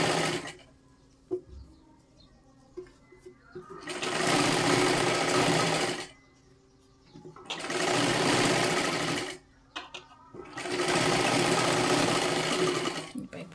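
A sewing machine stitches a princess-cut blouse in three sustained bursts of loud, even whirring, separated by short pauses with faint handling noises.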